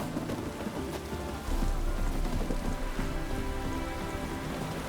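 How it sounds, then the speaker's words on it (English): Steady rainfall in the rainy city of Novigrad in The Witcher 3, a dense hiss of drops pattering on surfaces, thickening into a heavier downpour partway through, with no voices. "It just rains and rains."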